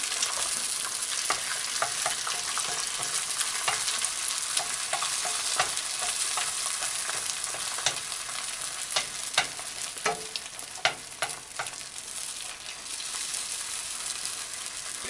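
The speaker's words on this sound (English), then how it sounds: "as we do this we're going to use long chopsticks or spatula and mix" Long chopsticks or a spatula stir scrambled eggs in a hot pan, giving a steady frying sizzle with frequent sharp scraping clicks and taps throughout, close and continuous with no talking.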